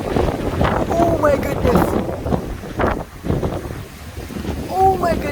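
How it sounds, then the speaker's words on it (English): Strong wind in a thunderstorm buffets and rumbles across the microphone in loud, uneven gusts. A person speaks with surprise over the wind. "The wind is picking up."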